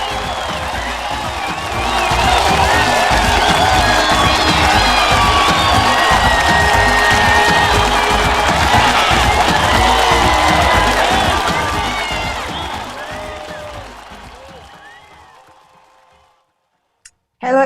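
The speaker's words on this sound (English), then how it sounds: "we'd like to offer a round of applause" A large crowd applauds and cheers to greet the Ghana and Cameroon teams, a dense, steady roar of clapping and whoops that swells for about ten seconds, then fades to silence.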